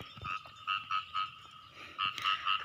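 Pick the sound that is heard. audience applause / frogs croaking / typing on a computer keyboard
frogs croaking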